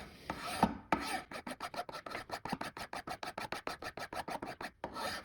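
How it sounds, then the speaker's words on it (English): Fine smooth file rasping across a bone bass guitar nut blank, a steady close run of rhythmic back-and-forth strokes, about four per second, each a dry scratchy rasp, with a short pause near the end and no talk. "now I'm going to switch to a fine file. So this is a smooth file rather than the second cut"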